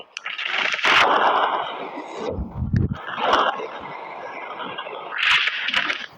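Bombs go off in the ragdoll sandbox game Melon Playground, a string of noisy bursts with one deeper thump near the middle, fairly loud and continuous with no talking.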